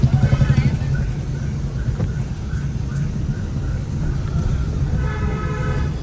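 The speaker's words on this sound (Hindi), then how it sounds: "ये है यहाँ का स्टेशन।" A train rumbles steadily at a railway station, a low, continuous roar that fills the whole stretch, with faint tonal hints like a distant horn and some background murmur.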